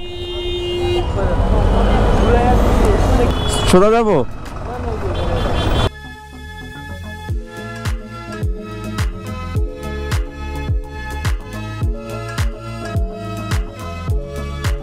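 Heavy city road traffic in a jam, with car and truck horns tooting, engines idling nearby and a rhythmic beeping, while people talk over the noise.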